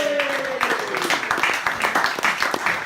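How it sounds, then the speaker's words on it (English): Applause at a cricket club dinner for a club member, a modest round of indoor clapping from a seated crowd, steady and moderately loud, with a voice speaking at the start. "Big round of applause for Gillet."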